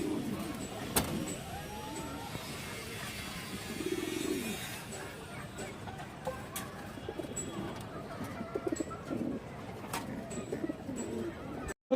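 Pigeons kept in a loft or market setting cooing softly in low rolling bursts, fairly faint against a continuous background murmur with occasional clicks and a car passing nearby.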